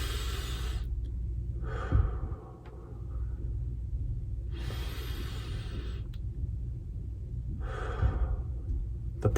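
Slow, deep breaths for a calming breathing exercise: two long airy exhales a few seconds apart, close and quiet, with a low steady rumble underneath and no talking.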